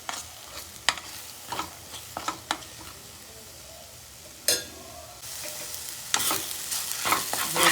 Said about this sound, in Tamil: லைட்டாக கிளறிக்கலாம்.